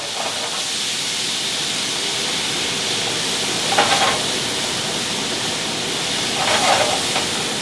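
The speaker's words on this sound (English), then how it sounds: "Give it a good stir." Vegan bacon pieces with homemade bacon seasoning frying in a pan, giving a steady loud sizzle and hiss throughout, with two brief louder bursts as the pieces are stirred.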